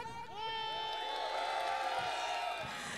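A crowd at a Lahu 11 versus Palghar 11 final match cheers and whoops loudly for Lahu 11, a sustained roar of many voices lasting a few seconds.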